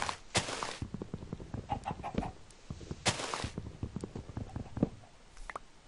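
Several chickens in the video game Minecraft cluck in short, repeated bursts, with a couple of louder squawks standing out among the steady clucking.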